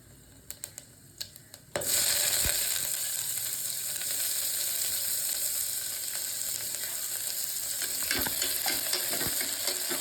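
Onions drop into hot oil and a loud, steady sizzle begins, with occasional scrapes and clicks of stirring in the pan close by.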